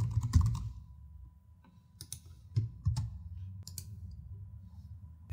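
Computer keyboard typing during login to a cloud platform setup, with scattered clicks and short bursts of keystrokes at close range, pausing between entries and resuming, no talking.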